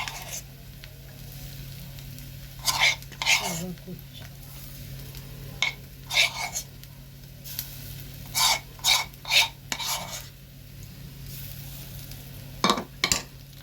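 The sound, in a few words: potato tikka frying in oil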